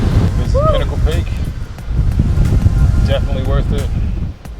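Strong wind roars and buffets the microphone continuously on Pinnacle Peak in the Grampians, Australia, while a person talks over the gusts.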